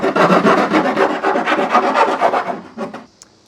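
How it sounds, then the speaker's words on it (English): A metal file rasping back and forth over the cut edges of an opening in the bed of a 2021 Chevrolet Silverado, quick rhythmic strokes up close, with no talking. "I'll use a file to clean these edges up."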